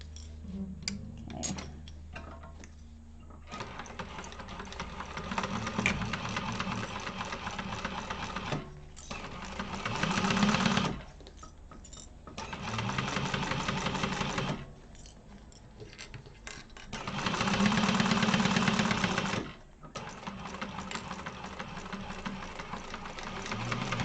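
A sewing machine stitches a crossbody bag in several loud, close bursts of rapid mechanical whirring, separated by short pauses of quieter ticking and handling noise.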